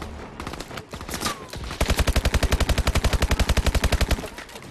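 Call of Duty: Advanced Warfare gunfire: scattered shots give way to a long, rapid, evenly spaced automatic burst, loud and close.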